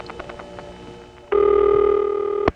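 Telephone ANI number tones from a 1976 step-by-step phone exchange recording: faint switching clicks, then a loud steady multi-tone burst holding for about a second before cutting off sharply.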